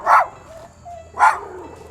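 Dixie the puppy gives two sharp, loud barks about a second apart, close by, with quiet whining tones in between over a low background hum.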